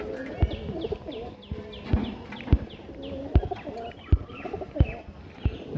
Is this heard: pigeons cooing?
yes